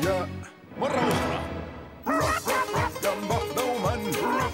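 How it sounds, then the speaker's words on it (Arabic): A cartoon robot dog barks in a series of sharp, loud yips and bow-wows, several rapid barks in bursts after a short quiet gap, set over singing voices. "أحب كلبي الآلي الشرير والوحشي. ينبح دوما دوما دوما ولا يخاف"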